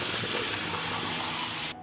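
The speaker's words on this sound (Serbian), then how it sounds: "procedit ću ih pod mazom hladne vode da se ne bi zalepile" Cold tap water gushes steadily over cooked nokedli dumplings in a strainer, a loud continuous splashing rush that cuts off abruptly at the end.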